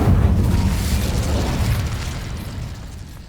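Incendio fire spell cast in the Hogwarts Legacy video game, a loud rumbling burst of roaring flame that slowly fades over a few seconds, alone without talking.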